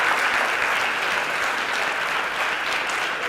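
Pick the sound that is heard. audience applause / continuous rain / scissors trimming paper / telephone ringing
audience applause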